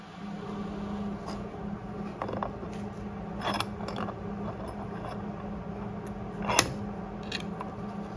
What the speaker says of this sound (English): We'll crank them up into the vise and then get started.